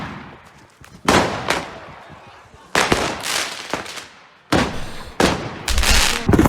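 Fireworks go off in a malfunction, a string of sharp, loud bangs in uneven bursts with crackling tails between them.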